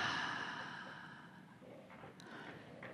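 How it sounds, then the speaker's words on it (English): A slow, soft exhale through the mouth during a relaxation breathing exercise: one breathy rush, close and gentle, fading out over a couple of seconds in a quiet room. "breath in through the nose, let it out through the mouth"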